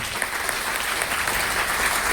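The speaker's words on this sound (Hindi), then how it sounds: "तो एक बार उनके लिए तहे दिल से जोरदार ताली।" Steady, loud applause from a seated audience at a DXN business seminar in India, dense continuous clapping filling the whole moment without any speech over it.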